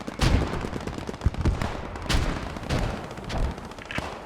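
Mortar rounds and gunfire crack and boom in an online military game match, with repeated sharp blasts spread irregularly through a dense, continuous din of battle.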